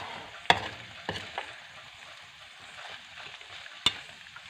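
Noodles seasoned with oregano and chili flakes are stirred in a pan over a soft sizzle, with a few sharp clinks of a utensil against the pan.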